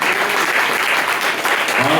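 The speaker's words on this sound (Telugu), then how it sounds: "అది చప్పట్లు కొట్టండి." Church congregation applauding through a fasting prayer service, dense steady clapping filling the room from start to finish with faint voices underneath.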